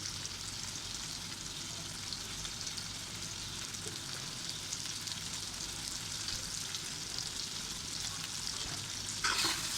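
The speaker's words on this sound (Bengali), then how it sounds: "এখন আমি এখানে একটু গুঁড়া মশলা অ্যাড করব।" Local freshwater fish frying in a pan with ground spices, a steady, soft, close sizzle holding through the whole stretch, ending in a brief louder crackle as the fish is stirred.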